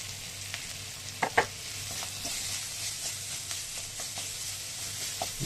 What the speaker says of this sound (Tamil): முன்னாடி நம்ம இஞ்சி பூண்டு வந்து சேர்த்துக்க போகிறோம்.